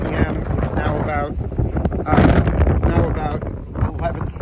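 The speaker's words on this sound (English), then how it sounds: "as you can hear, it's blowing quite hard" Gale-force wind from a nor'easter roars across a boat named True Love, a loud gusting rush that swells and buffets the microphone, with someone talking under it.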